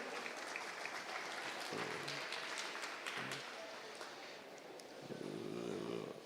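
Audience at a national debate championship final claps, filling the room in a steady patter, with indistinct voices and murmurs mixed in underneath.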